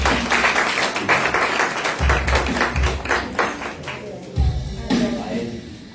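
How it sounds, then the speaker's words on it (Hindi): An audience at a New Year church meeting applauds as a mother is welcomed to the stage, a sustained burst of clapping under a voice that tapers toward the end. "मैं अपनी वालदा को बुलाना चाहता हूं स्टेज पे, जोरदार तालियों में।"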